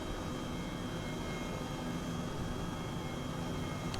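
An H135 helicopter in flight in Microsoft Flight Simulator gives a constant, even engine and rotor roar, faint and steady with no breaks, while it flies an approach near Wick.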